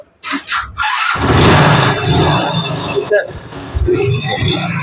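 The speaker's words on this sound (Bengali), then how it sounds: "হ্যাঁ, হিরো হোন্ডা গাড়ি সেলফ হয়।" A Hero Honda Splendor NXG motorcycle self-starts at a used bike market, a brief starter whir catching into a loud, steady idle close by, with people talking over it.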